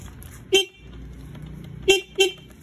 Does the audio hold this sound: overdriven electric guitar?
no